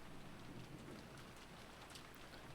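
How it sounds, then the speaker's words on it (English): Rain within the Umineko visual novel, a faint, steady patter and hiss of falling drops with a few sharper splashes, quiet and continuous with no speech. "The fierce lightning and rain made time freeze."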